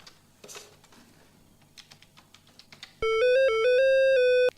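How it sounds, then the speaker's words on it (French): A softphone ringtone sounds during a business phone demo, a loud electronic melodic ring that starts abruptly after some quiet keyboard typing and clicks, with no voices. "Ça sonne. Je décroche."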